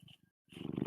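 A cat purrs close to a microphone, a low rumbling flutter in two short bursts and then a louder stretch after a brief silence.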